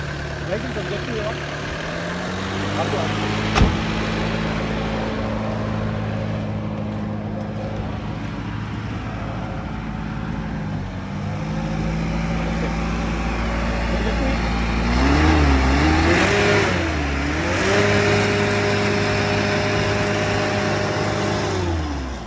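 A 2017 diesel tempo van engine idles with a low rumble, then revs up and down several times, the pitch rising and falling, while people talk nearby.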